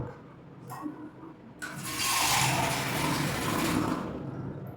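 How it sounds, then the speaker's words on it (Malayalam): Water is poured into ground rice batter for small vattayappam, beginning as quiet bowl noises and turning into a steady, full pouring rush for the second half. "ഇതിലേക്ക് കുറച്ച് വെള്ളം കൂടെ ചേർത്തു"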